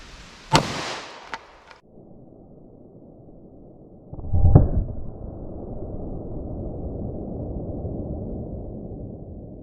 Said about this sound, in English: let's try again with our 40 Smith & Wesson